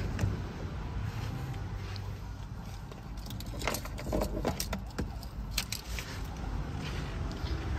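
Smart key for a 2024 Honda CR-V 2.0 RS Hybrid jangles on its ring in close, bright metallic clinks, busiest in the middle of the clip, over a low steady background hum.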